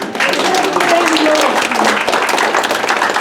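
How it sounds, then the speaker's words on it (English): A gathered group claps together at a birthday celebration, dense even applause filling the space, with a voice briefly audible early on beneath the clapping. "let's give a round of applause again to Bruce and Randa"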